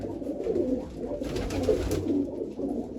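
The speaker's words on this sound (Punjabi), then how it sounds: "ਇਹ ਚਿੱਟੀਆਂ ਅੱਖਾਂ ਦਾ ਕਬੂਤਰ ਆ" A white-eyed pigeon coos in low, throaty rolling phrases, repeated steadily and close up, with faint background noise and no talking.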